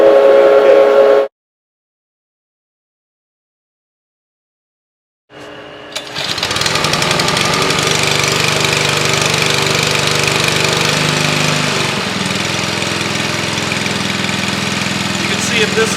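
A hydraulic generator that powers a Jaws of Life rescue tool cuts off into brief silence, then its engine starts and runs at a loud, steady, close drone.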